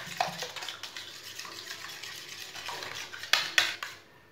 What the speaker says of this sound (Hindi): इसे अच्छी तरह मिक्स करना